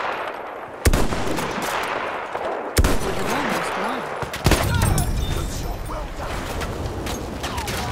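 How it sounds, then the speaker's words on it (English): Machine gun fire in the Battlefield 1 video game, several heavy bursts and impacts over a dense continuous battle din, with players' voices talking throughout. "Machine gun! Hostile!"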